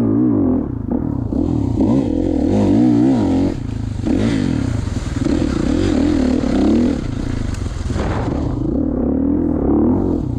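A 2016 Kawasaki KX450 dirt bike ridden at Hoover Ponds, its engine loud and close, revving up and down repeatedly with rising and falling pitch and some clatter, no talk.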